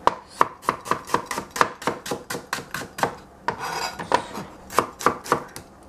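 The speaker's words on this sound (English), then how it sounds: "You put your onion here, and then your knife can go through and cut it" A knife chops an onion on a cutting board in a steady run of sharp, close knocks, about a dozen and a half strokes, with a brief pause midway before the chopping resumes.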